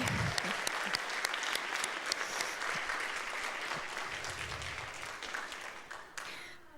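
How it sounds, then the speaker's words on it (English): A graduation ceremony crowd applauds steadily and energetically, sustained clapping from many hands that fades slightly toward the end. "she deserves a big round of applause"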